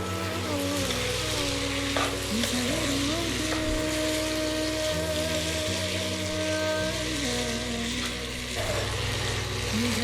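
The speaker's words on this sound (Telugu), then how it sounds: "ఇప్పుడు మనం ఇందులో సోయా చంక్స్ వేసుకుందాం. మంచిగా ఫైన్గా కలుపుకోవాలి." Soya chunks are stirred into a sauce in a pan, making a steady sizzle with stirring scrapes under a constant low hum from a nearby burner or appliance, with no one speaking.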